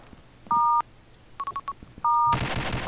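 Bomb being planted in a shooter video game, marked by a series of electronic keypad beeps, some long and some short, quickly followed by a loud burst of broadband game noise.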